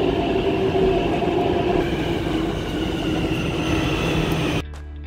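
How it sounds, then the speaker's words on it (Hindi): A metro train pulls into a station with a loud, continuous rumble and rattle of the cars, holding steady for several seconds before the noise drops off abruptly near the end. "सो फाइनली मेरी मेट्रो ट्रेन आ चुकी है"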